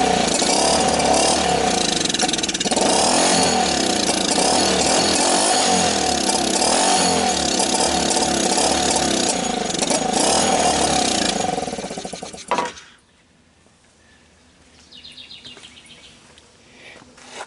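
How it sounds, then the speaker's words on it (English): A Simple BMX 90cc China-made ATV engine runs loud and close, a steady rough buzzing idle that carries on for about twelve seconds before cutting off abruptly, leaving quiet background. "The exhaust doesn't sound half bad, and it's actually doing pretty good."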